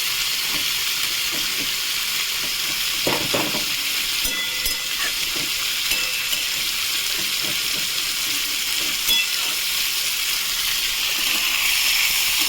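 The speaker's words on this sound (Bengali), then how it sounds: "এদিকে পেঁয়াজটা একবার নেড়ে দেবো" Steady, continuous sizzling of onions frying in a pan, with scattered scraping and clinking of a utensil stirring them, close and fairly loud throughout.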